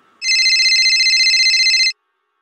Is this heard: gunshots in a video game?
no